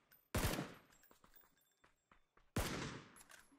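Gunfire in PUBG: two loud, close bursts of shots, each sharp crack followed by a decaying tail, with a few fainter scattered shots in between.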